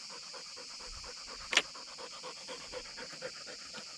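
A dog pants steadily in quick, rhythmic breaths close by, with a single sharp click or tap partway through.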